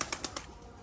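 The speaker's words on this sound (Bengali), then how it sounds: "কবুতর" A pigeon flaps its wings in four quick, evenly spaced beats close by, then the sound settles into quiet noise.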